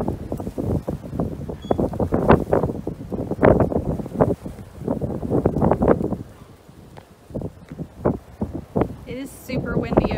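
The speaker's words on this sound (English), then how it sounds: "It is super windy over here" Strong wind buffets an outdoor animal-care tour, gusting roughly against the microphone in uneven bursts while someone talks over it.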